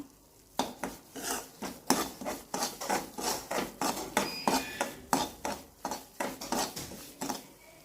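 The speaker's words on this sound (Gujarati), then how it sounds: "પોચા હાથે મિક્સ કરતો રહેવાનો" Semolina for mango halwa being stirred and roasted in a pan, with rhythmic scraping strokes of a spoon against the pan about two or three times a second, close and fairly loud, with no voices.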